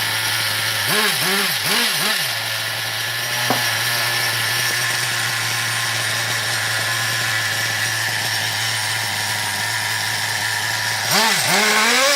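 A Renault Clio T2M série 5000 engine cranks and catches, gives a few short revs, settles into a steady idle, then is blipped again near the end; close and loud, no talk.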